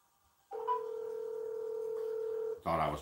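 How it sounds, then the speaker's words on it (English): A telephone gives a steady dialing tone for about two seconds, clear and unbroken, followed by a brief burst of another sound at the end. "let's call her on the phone, y'all"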